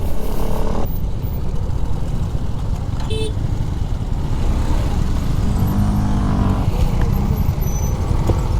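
Off-road motorcycles ride along a dirt trail, their engines a loud continuous rumble close by, with a brief horn-like toot partway through.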